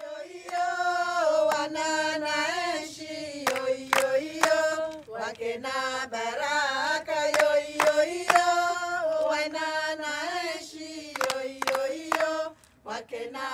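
A Comorian women's choir sings together in harmony, with sharp hand claps accenting the rhythm throughout.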